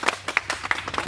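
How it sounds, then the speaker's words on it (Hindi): Students in a classroom clapping together in a quick, irregular series of sharp hand claps, close and moderately loud, with no other sound between the claps. "चलो साथ ताली बजाओ"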